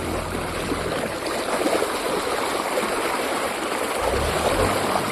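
Water rushes and splashes continuously outdoors during threshing work, a loud, steady stream-like wash that swells slightly toward the end, with no talk over it.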